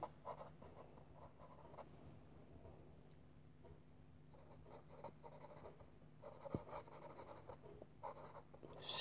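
A pen or marker scratching out a definition in a maths lesson, quiet continuous writing strokes over a low steady hum, with one small click midway and no talking.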